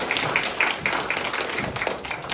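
Lecture audience applauding at the close of a Korean history talk on Joseon-era factional strife, a steady patter of many hands clapping with sharp individual claps standing out, moderately loud and continuous throughout.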